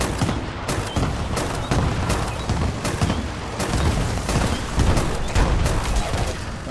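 Repeated explosive blasts from a grenade launcher in the video game Fallout 76, booming loudly in quick succession amid a dense, continuous wall of gunfire and detonations.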